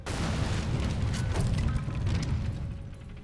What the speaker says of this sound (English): Press Y to place a bomb, and then press Y again to detonate.